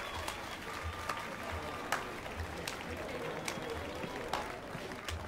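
Steady applause from a crowd in The Witcher 3: Wild Hunt fills the scene, a dense patter of clapping with a few sharper claps standing out, fairly even throughout.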